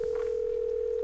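A steady telephone dial tone in a Nancy Drew mystery game, a single continuous pure hum held loud and unbroken throughout with no voices.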